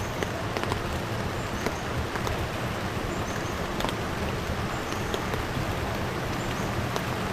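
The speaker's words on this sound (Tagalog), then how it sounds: "Pero tuloy-tuloy yung ulan eh." Continuous rain falls at a riverside campsite in Mauban, Quezon, a steady broadband hiss with scattered drop ticks, moderately faint and unbroken, with no voices.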